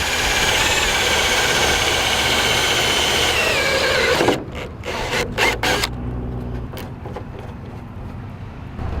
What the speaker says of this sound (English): I've actually got to cut a hole into my casing here.